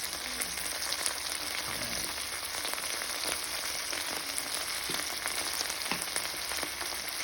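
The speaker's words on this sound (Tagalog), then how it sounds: "Igisa lang ng konti" Purefoods sisig with ground pepper is sautéed in a pan, giving a close, even crackling sizzle that stays steady throughout with light spatters and no talking.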